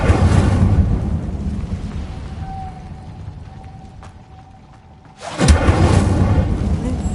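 Incendio fire spell cast in a Hogwarts video game: a loud rumbling whoosh of flame, fading into quieter ambience with a faint tone, then a sudden second roaring burst that stays loud to the end.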